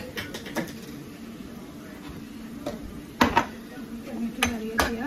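A spoon stirring tomato and spices in a cooking pan for chicken tikka, giving sparse metallic clinks and scrapes over a low kitchen hum.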